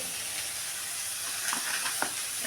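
Onion sautéing in a pan gives a steady close hiss and sizzle, with a few faint scraping stirs near the end and no talk.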